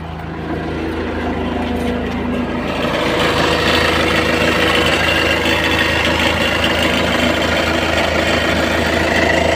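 A steady engine rumbles continuously at idle, close by, with a constant low drone and no talking.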